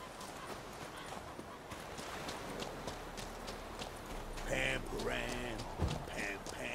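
Clip-clop of a horse's hooves trotting up when called in The Witcher 3, a steady rhythmic run of hoofbeats under game ambience, closing with a brief whinny and snort nearby.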